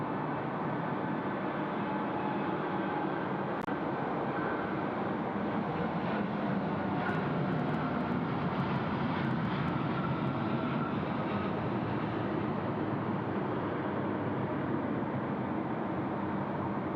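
At Sydney Airport, an airliner rolls along runway 34 left with a steady, distant broadband roar that holds level for the whole stretch, faint and continuous with no voices.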